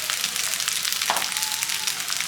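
Ajwain-seasoned cooked rice frying in hot oil in a pan, giving a steady close sizzle with crackling throughout and a brief stir or scrape partway through.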